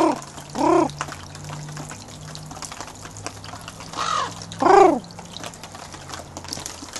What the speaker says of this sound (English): A raven, anyway.